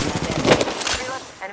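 Automatic weapon fire rattles in rapid bursts during an Apex Legends match, loud and close, with game voice lines spoken over the shooting.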